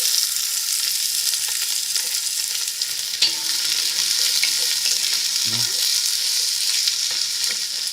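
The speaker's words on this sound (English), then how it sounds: "We begin with the oil, put some onion in there." Onion frying in oil in a pan for a barley, kale and butternut squash risotto, a loud, continuous sizzle with brief stirring knocks partway through.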